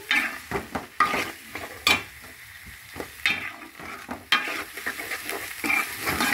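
Onion and ginger-garlic paste masala fries in a pot, sizzling steadily while a metal spoon scrapes and clanks against the pan in irregular strokes, close up and loud.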